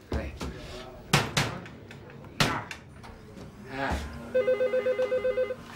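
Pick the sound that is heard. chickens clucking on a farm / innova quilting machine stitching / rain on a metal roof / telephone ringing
telephone ringing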